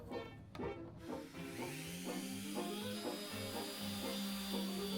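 A power sander whirs against the wooden inside surface of a 1940s vanity drawer, its motor rising in pitch as it rubs in repeated strokes.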